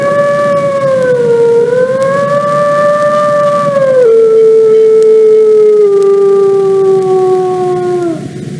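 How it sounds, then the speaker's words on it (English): A wolf howls in one long, loud, continuous wail that rises, holds, drops in pitch partway through and fades at the end, heard alone and close. "That is the howl of a wolf"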